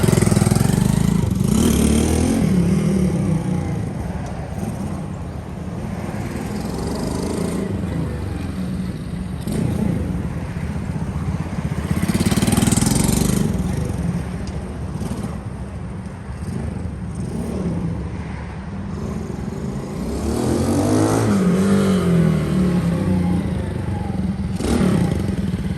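A small Honda S65 motorcycle engine runs steadily up close, idling with a rough, chugging rumble that rises and falls slightly throughout.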